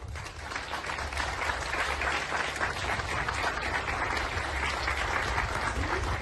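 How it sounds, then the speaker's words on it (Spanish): Steady, dense applause from an audience at a Cruz Roja Mexicana donation ceremony in Huejotzingo, loud and continuous throughout with no pauses. "fuerte el aplauso para ellos"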